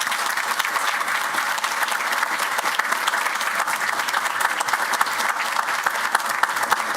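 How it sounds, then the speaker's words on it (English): An audience at a school board of education meeting gives a steady round of applause, dense and even clapping that carries at a constant level from start to finish. "Please join me in a round of applause."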